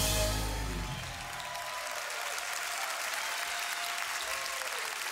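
Audience applause at a Christmas concert event, a dense wash of clapping that starts loud and settles into steady, sustained applause throughout.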